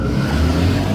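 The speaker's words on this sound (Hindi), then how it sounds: "जब आप ब्रेक छोड़ेंगे तो गाड़ी जैसे गुलेल में से निकलता है" BMW i4 M50 electric car pulling away hard under launch control, a loud, steady rush of drive whine, tire and road noise filling the whole moment, with no talk.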